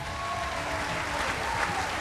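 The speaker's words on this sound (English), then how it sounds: "Let's give him a good round of applause." Audience at a 2003 Walmart Open fishing tournament weigh-in at Beaver Lake applauding an angler, a dense, steady wash of clapping from a crowd that holds evenly for the whole moment.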